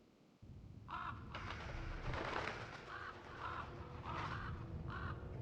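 Crows caw repeatedly in the horror game Remothered: Broken Porcelain, a flock's harsh calls coming in irregular bursts over a steady ambient rumble, moderately distant and unaccompanied by speech.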